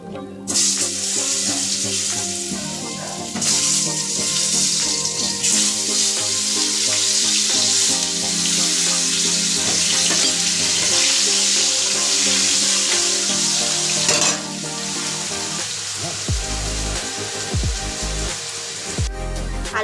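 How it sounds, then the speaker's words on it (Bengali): Potatoes fry in hot oil after fish in a home kitchen, a steady loud hiss and crackle running for the whole stretch, with occasional clatter near the end and no talk. "এবার এই তেলে আলুটা ভেজে নেব।"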